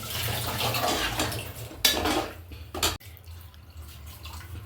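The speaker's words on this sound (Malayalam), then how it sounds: "ഇനി നമുക്ക് ആവശ്യത്തിനുള്ള വെള്ളം ഒഴിച്ച് കൊടുക്കാം" Water poured into a pan of liver fry, a splashing, bubbling pour with clinks of a metal pan or utensil, fairly close and moderately loud, and no speech.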